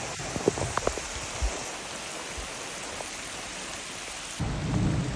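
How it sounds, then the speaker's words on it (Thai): Thunder rolls during steady heavy rain outdoors beside a creek in Thailand. The hiss of rainfall is continuous and close, and a deeper rumble swells near the end. "ตอนนี้ฟ้าร้อง"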